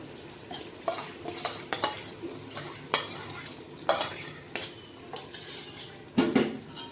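A spoon stirs curd into spinach in a cooking pan, producing repeated metallic scrapes and clinks against the pan over a soft, low sizzle, close and uneven in rhythm.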